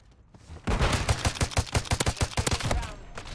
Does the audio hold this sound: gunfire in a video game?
yes